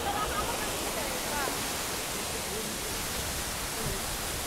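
Water pours from a tall waterfall high above a mountain trail on the Amarnath trek, producing a steady, loud, broadband rush with no breaks; a voice is faintly heard at moments under the roar.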